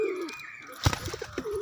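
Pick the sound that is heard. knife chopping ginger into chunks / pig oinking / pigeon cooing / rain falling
pigeon cooing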